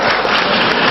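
An audience at a sermon claps in a brief, dense burst of applause, loud and continuous for about a second with no speech over it.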